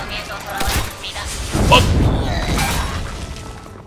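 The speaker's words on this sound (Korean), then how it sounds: "폭발 사격." Explosive Shot spell effect in the Hearthstone card game: a sharp booming blast with a shattering crackle about midway, followed by a rumbling tail. A voice talks over it.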